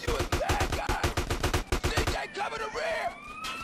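Automatic gunfire in the video game GTA San Andreas rattles out as a loud, rapid, evenly spaced burst for about two seconds. It cuts off into a rumbling game backdrop with wavering siren-like tones.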